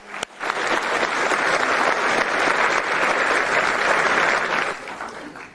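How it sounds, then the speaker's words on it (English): A large crowd at a football award ceremony bursts into steady, dense applause that holds at full strength for about five seconds before tapering off quickly at the end. "Please give them a round of applause."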